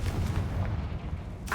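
A Confringo blasting spell goes off in the Hogwarts Legacy video game, a dull, booming blast with low rumble sustained across the moment, ending in a brighter burst.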